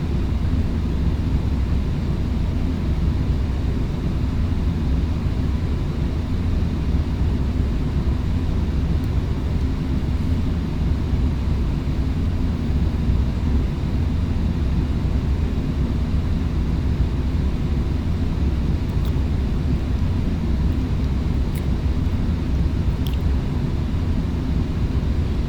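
Steady, loud airliner engine roar in a flight simulator game, a continuous low rumbling drone with thrust building gradually, alone with no voices.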